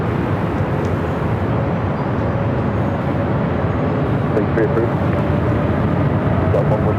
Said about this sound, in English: Quick departure Delta 446.